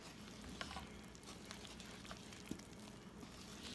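Cupcake batter with vegetable oil and warm water is mixed by hand, making a steady, quiet, wet stirring hiss with small clicks of the utensil against the bowl.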